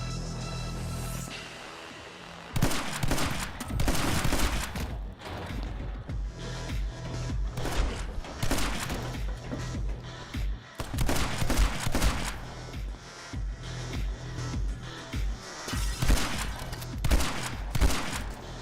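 Rapid, dense bursts of gunfire, including shotgun blasts, from the video game My Friend Pedro fire in quick clusters over a continuous backdrop of game music, loud and relentless throughout.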